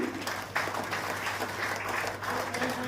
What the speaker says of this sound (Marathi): एकदा जोरदार टाळ्या वाजवूयात आपण